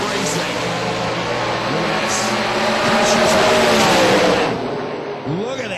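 X275 drag racing cars roaring down the strip at a Lights Out 7 eliminations event, a loud sustained engine howl that swells and then fades as the run ends, with a commentator's voice running over it.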